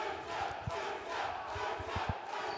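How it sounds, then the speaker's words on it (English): Fight-night arena crowd cheering for fighter Simsek, a continuous roar that swells in rhythmic waves like chanting, with dull thumps underneath, heard from a distance. "Gives you the edge, doesn't it, when you've got people cheering for you?"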